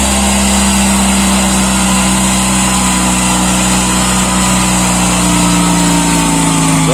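KMZ T-012 mini tractor clearing snow with its factory blade: a loud, steady engine drones close by throughout, its pitch drifting slightly as the load changes.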